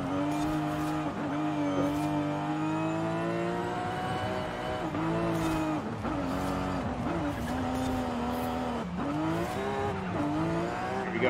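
A Nissan Skyline GT-R R34 in Forza Horizon 5 drones loudly and steadily as its engine pitch rises and dips, with turbo spool and brief blow-off valve releases.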